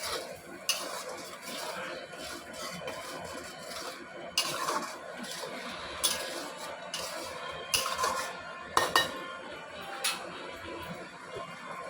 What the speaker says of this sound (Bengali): পরিমাণ মতন হলুদ দিয়ে মশলাটা গ্যাস কমিয়ে কষাতে দিতে হবে।